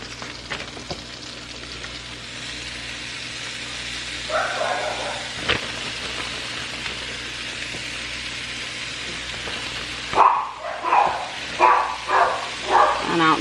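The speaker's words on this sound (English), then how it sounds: "I don't know why the dogs are barking." Dogs bark somewhere in a house, heard as a burst of several quick, fairly loud barks near the end, over the steady sizzle of a grilled cheese burrito frying in butter in a pan.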